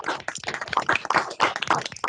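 Several people clap in a scattered burst of applause with a thin, compressed quality, like hands heard through a call connection.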